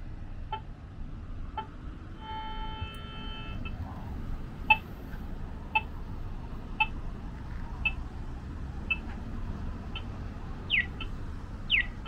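A pedestrian crossing signal on College Drive in Saskatoon gives short, high chirps at a steady rate of about one per second. The chirps sound moderately distant over a low outdoor traffic rumble.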